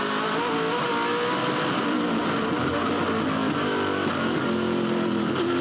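A V8 touring car's engine screams at high revs during the Sandown 500 race, loud and continuous from onboard with pitch shifting through gear changes, no voices.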